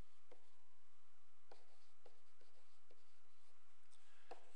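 A pen sketching a graph on paper, with close scratchy strokes and several short taps at irregular intervals over a quiet room hum.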